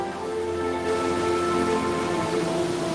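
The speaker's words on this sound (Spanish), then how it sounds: "tamborileo de la lluvia sobre los charcos anuncia el consuelo de la tierra sedienta" Rain patters steadily on puddles, a continuous even hiss of drops with a faint sustained tonal drone beneath it and no voices.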